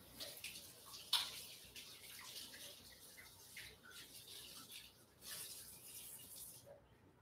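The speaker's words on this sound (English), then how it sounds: "I gotta get a drink and rinse my hands real quick." Tap water runs steadily as hands are rinsed, a faint continuous hiss and splash with small clinks and shifts.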